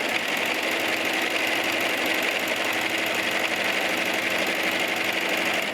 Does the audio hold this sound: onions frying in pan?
no